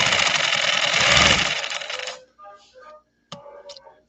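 A 1950s PFAFF 130-6 sewing machine that fell over four feet in shipping, running at speed with a loud steady whirring stitch for about two seconds, then winding down into a few clicks and mechanical clunks.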